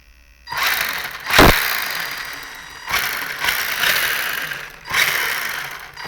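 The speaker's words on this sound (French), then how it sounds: "Bon, mon moteur il tourne plutôt bien." A small model car engine runs steadily with a buzzing, rattling drone, its pitch and loudness rising in a few surges before settling again.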